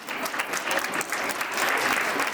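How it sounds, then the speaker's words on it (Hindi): Audience applause at a Founder's Day event, a steady broadband wash of many hands clapping at moderate distance, continuous and even throughout with no voices on top. "आपकी तालियां बतानी चाहिए कि किसने कितनी सुंदर प्रस्तुति दी है"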